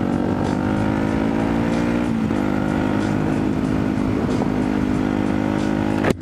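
A supermoto motorcycle ridden on Salisbury Plain, its engine droning steadily and loud from start to finish with small shifts in pitch, heard close up from a riding motorcycle.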